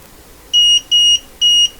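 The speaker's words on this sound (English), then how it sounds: "it's beeping because it's over 40 volts" Three short, high electronic beeps in a steady rhythm from a nearby meter warning of over 40 volts DC, each about a quarter second long, over quiet background.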